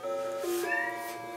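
A cat gives a single short meow, pitch dipping then rising again, clear and close, in a video game (Zelda Second Quest) setting with no talking over it.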